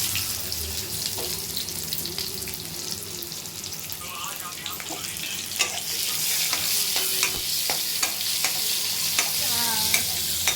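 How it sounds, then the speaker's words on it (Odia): Spices tempering in hot oil in an Odia home kitchen, a steady dense sizzle and crackle with scattered sharp pops and spatters throughout, close and continuous, with faint clinks of a utensil. "ତେଲ ବର୍ତ୍ତମାନ ଗରମ ହେଇଗଲାଣି, ଗରମ ହେଲାଣି, ଫୁଟଣ ଟିକେ ଫୁଟାଇଦେବା"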